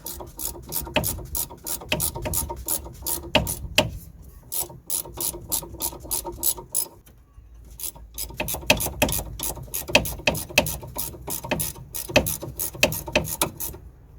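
A 17mm spanner ratcheting nuts tight on the rear anti-roll bar drop link of a Land Rover Freelander, producing rapid, close clicking bursts in repeated strokes with a brief pause midway and no speech.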